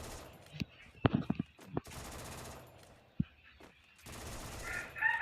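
Gunfire from a Thomson Evo gun in the Free Fire video game, with sharp shots scattered singly and in quick bursts, set against broad noisy stretches of game ambience.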